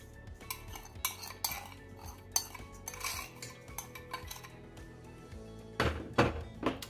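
Almond flour, flour and coconut sugar stirred together in a bowl for a low-GI strawberry tart, with a utensil clinking and scraping against the bowl in a steady run of close, light taps and a few louder knocks near the end.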